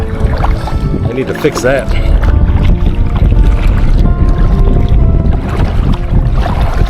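Wind gusts buffet the microphone by an old pier on Island Lake in Lost Creek, Nebraska, a loud, continuous low rumble with someone talking over it.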